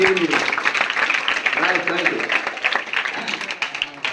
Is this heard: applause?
yes